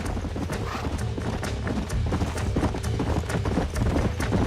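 Steady clip-clop of horse hooves in the video game Red Dead Redemption, several horses trotting close by in a continuous rhythmic patter, with a faint whinny in the mix.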